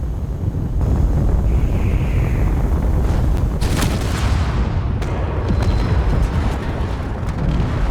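A missile warhead detonates in a video game, producing a loud, continuous broadband roar with a sharper burst partway through and a sustained rumbling wash that fills the whole stretch, with no voices.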